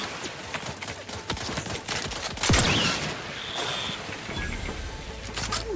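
Gunfire from a weapon in Outer Worlds 2: a busy stretch of rapid cracks and impacts mixed with other game noise, close and fairly loud with no talk.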